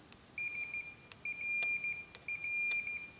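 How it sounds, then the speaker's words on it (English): A Fluke multimeter in continuity mode gives three clean, steady electronic beeps, each lasting about half a second with short gaps, close and clear over a quiet room while probing a Mercedes W201 wiper circuit. "the fluke to measure resistance and put it in a mode that makes it beep if it goes really low"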